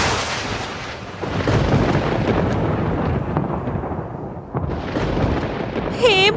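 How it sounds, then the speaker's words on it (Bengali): A loud thunder strike hitting palm trees beside a riverside path in a Bengali cartoon, a long rolling rumble with a brief dip before a second heavy crash, and a short whooshing effect at the end. "বাজ পড়ে।"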